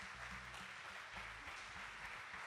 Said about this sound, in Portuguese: Eu gostaria que vocês dessem uma salva de palmas para Jesus.